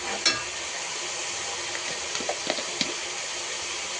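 Browned onions and ginger paste fry in a pan, a steady close hiss of sizzling oil broken by a few light stirring clicks, with no talk.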